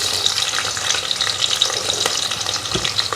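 Onion and green chilli pieces fry in about three tablespoons of hot oil, a continuous close crackling sizzle with a few bright pops and a brief low knock near the end.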